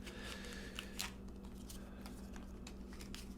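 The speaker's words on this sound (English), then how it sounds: "As I shuffle," Tarot cards shuffled by hand, a soft continuous papery rustle with faint riffling flicks, close and quiet over a low steady hum, with no talking.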